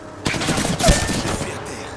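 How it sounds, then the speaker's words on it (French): Gunfire bursts out in the Apex Legends video game, a sudden dense volley of rapid shots lasting over a second and loud against the game's background sound. "Deuxième escouade vous tire dessus."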